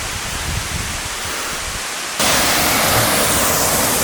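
Rushing mountain stream water near Montha Than Waterfall in the Chiang Mai mountains, a steady broadband wash that jumps abruptly louder partway through, as if moving closer to the flow, with no voices.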